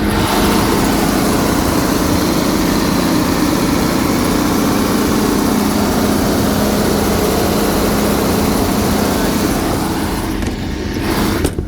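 A 1400 amp E&E studio diesel generator running in a steady, loud, droning rumble that holds evenly before dropping slightly near the end.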